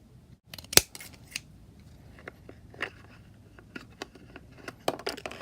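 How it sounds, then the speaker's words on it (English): Scissors snip off the top of a storage case for toy cars, giving a few sharp close cuts and clicks spread among soft handling rustles, with no talk. "what I want to do is cut probably a little off the top"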